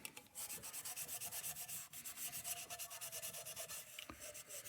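Fingers and fingernails rub steadily along the seams of a vintage brass burner, a close, dry, rhythmic scrubbing with quick repeated strokes and a brief pause midway.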